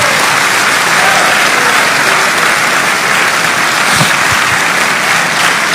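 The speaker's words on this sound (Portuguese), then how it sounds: "Vamos aplaudir o Senhor Jesus bem forte." A large congregation at a missions symposium applauds loudly and continuously, a thick wash of clapping with a few brief thumps near the end.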